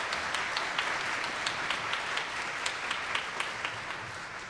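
Graduation ceremony audience applauding honor students, a broad roomy round of clapping with sharper individual claps standing out, steady and then tapering slightly near the end.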